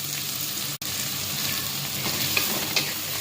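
Onion and garlic frying with cumin in a pan, a dense continuous sizzle with occasional stirring clicks and a brief dropout, close and steady with no voices.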